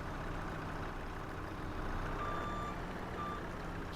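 A tractor engine idles steadily in Farming Simulator 25, a continuous low rumble throughout, with faint high beeping tones partway through.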